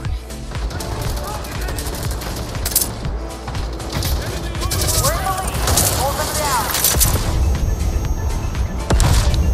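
Rapid bursts of gunfire from the Battle Teams 2 shooter game, with repeated shots and booms layered over a continuous game soundscape.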